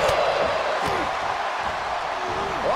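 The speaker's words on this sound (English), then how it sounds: "The sound of this crowd is deafening, and he's asking for more." Deafening roar of a wrestling arena crowd at a WWE Raw match, a dense, continuous wall of cheering and shouting that stays loud throughout, with a few rising whistles and calls cutting through.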